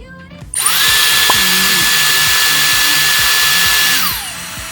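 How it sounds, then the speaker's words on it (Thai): A Dyson Airstrait hair dryer-straightener switches on and blows a loud, steady rush of air with a high whine onto wet hair near the roots, running continuously for about three and a half seconds before winding down. "เราจะเป่าแห้งก่อนนะคะ ให้ตรงโคนมันแบบว่าแห้งมากขึ้น"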